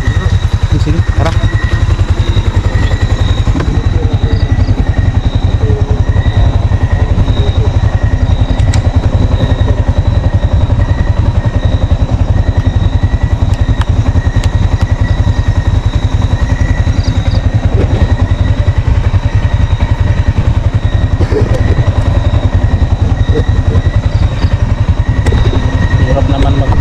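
A motorcycle engine drones loudly and steadily while riding along a route through mountain country, with wind buffeting and road clatter, and people talk over the noise.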